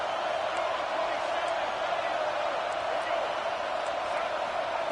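Football stadium crowd at a Texas A&M vs LSU game, roaring for a red zone defensive stop, a loud continuous wall of cheering noise that holds steady throughout.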